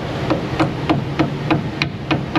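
A hammer strikes a chisel on a Toyota Tacoma tie rod in a steady series of about eight sharp metallic taps, evenly spaced and close by, with no talking.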